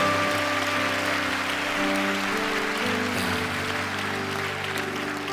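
Audience applause fills a church prayer-meeting hall, a dense, even wash of clapping sustained for about five seconds with a faint tonal hum underneath.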